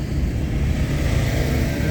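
A car overtaking on the Dive Ghat mountain road, heard as a steady, loud broadband road and engine roar that holds evenly for the full two seconds with no voices.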